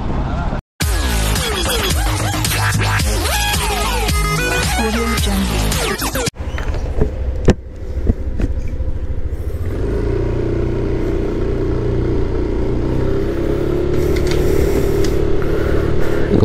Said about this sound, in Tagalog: nakasakay tayo ng tricycle